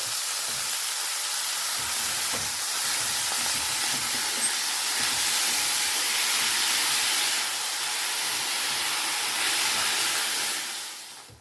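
Chopped bathua greens go into simmering dal seasoned with garlic paste, giving a steady, fairly loud steaming hiss and sizzle that holds throughout before tailing off at the end.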